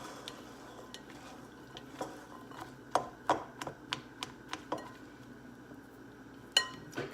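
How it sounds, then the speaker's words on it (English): Vegan oxtail meatball mixture stirred in a bowl, with scattered sharp clinks and scrapes of a utensil against the bowl over a quiet background, no talking. "Okay, so I'm gonna mix this together."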